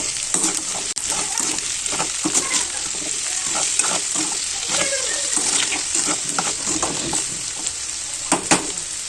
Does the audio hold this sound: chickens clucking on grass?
no